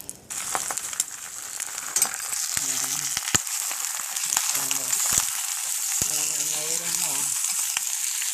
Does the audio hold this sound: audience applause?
no